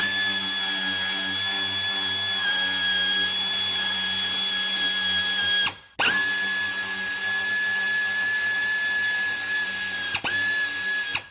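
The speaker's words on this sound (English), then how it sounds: "there are two bolts that are attached to this upper rad support, so we're just going to unbolt them as well with the same tool" A power tool unbolts the upper radiator support bolts on a 2002 Honda CR-V, giving a loud, close, steady mechanical whir that runs for most of the stretch with two brief cutoffs. No one speaks.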